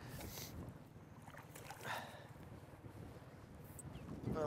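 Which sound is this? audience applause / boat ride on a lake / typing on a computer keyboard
boat ride on a lake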